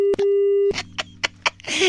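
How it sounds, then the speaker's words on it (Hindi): A telephone busy tone after a disconnected call: a steady tone, a brief gap, then a long continuous stretch, followed by a run of short pulsed beeps with a low hum beneath, loud and close. "फोन कट गया है"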